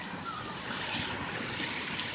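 Heavy rain pours during a hurricane, and water gushes and splashes steadily along a flooded street where cars sit in deep water, making a loud, continuous rushing wash with no clear voices over it.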